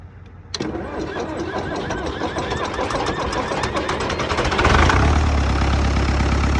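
An Oliver 1355 tractor engine catches after a sharp start and keeps running unevenly at idle, a steady, loud mechanical rumble close by that grows heavier near the end.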